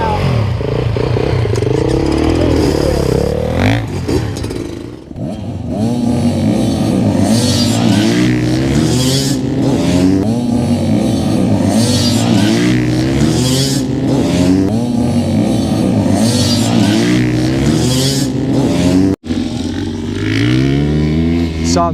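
A 4-stroke enduro motorcycle engine revs hard and close at an off-road riding experience day, rising and falling through repeated throttle blips with a loud, rough, continuous buzz and a brief dip partway through.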